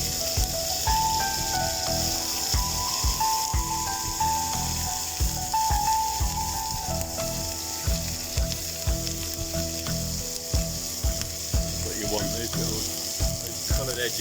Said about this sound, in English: Just let it kind of sear for those first few minutes.